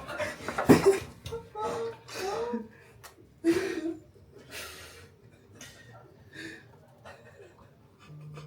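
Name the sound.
imitated panting after running a marathon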